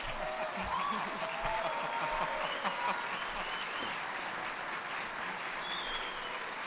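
An enthusiastic audience applauds in a university library, with sustained, dense clapping and scattered cheers and whistles layered over it. A few voices come through underneath.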